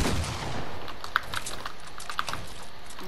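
Gunfire in the video game Fortnite, a few sharp shots standing out against a busy background of game noise and clatter, moderately close with no talking.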